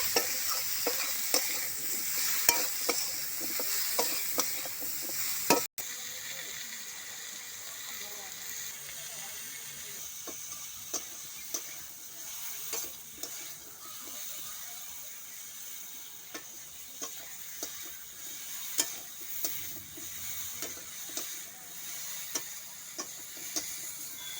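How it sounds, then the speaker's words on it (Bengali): Vegetables seasoned with salt and turmeric sauté in a pan, giving a close, steady sizzle broken by regular scraping stir strokes throughout. "সবজিটা এখন 3-4 মিনিট ধরে কষে নেব।"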